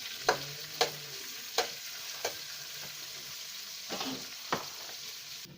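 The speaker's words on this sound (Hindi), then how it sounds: "इसको थोड़ा सा भून लेंगे दोस्तों" Onion frying in a pan, a soft steady sizzle broken by several clear scrapes and knocks of a spoon stirring, fairly quiet and without voices.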